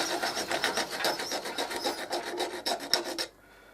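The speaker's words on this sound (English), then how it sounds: "Take a rasp, do it the rest of the way." A rasp files a curved wooden roof piece for a bird table in quick, rhythmic rasping strokes, close and steady for about three seconds before stopping abruptly.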